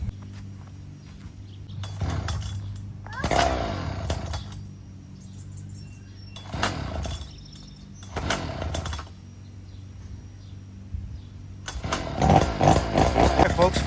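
A Super GSR46R Goped two-stroke engine is pull-started in several rough bursts, sputtering briefly between quieter pauses before catching near the end, close by with no exhaust pipe fitted.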